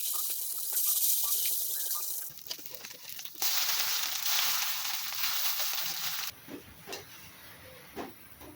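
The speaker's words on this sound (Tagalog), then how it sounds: "Then prituin na lahat ng natitira." Meatloaf and potato malunggay patties frying in hot oil, giving a steady, loud broadband sizzle that changes level in stages, with a few soft bumps near the end.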